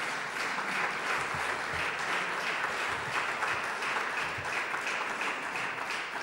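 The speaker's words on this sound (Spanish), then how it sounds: "Un aplauso para él por su esfuerzo." A church congregation claps in a steady, sustained round of applause that holds at an even level throughout, heard from a moderate distance.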